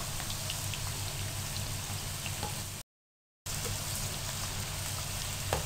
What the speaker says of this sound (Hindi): इसी तरह से आपने इन पकोड़ों को फ्राई करना है।